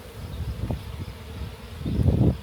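Honey bees hum low and steady around an open, honey-bound hive during an apiary inspection, with soft bumps and rising swells of buzzing.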